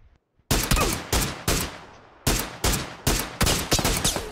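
Sharp, loud bursts of gunfire from a shooter video game, starting after a brief silence and repeating as about eight separate shots or short bursts with short gaps between them.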